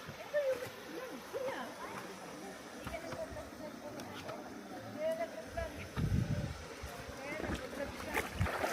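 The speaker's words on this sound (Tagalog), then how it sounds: "Ilog." A river flows and splashes at a rocky bank during an outdoor trip in Oman, a low steady water rush with scattered splashes and bumps, faint and close, with wind and brief voices nearby.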